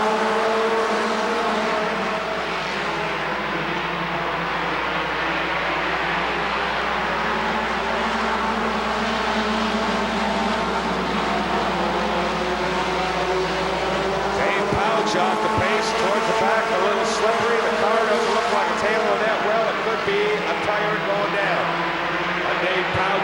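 Race cars at Rockford Speedway in 1996 roaring steadily past, a continuous loud engine drone that rises and falls as the pack circles the oval, with commentary over it throughout.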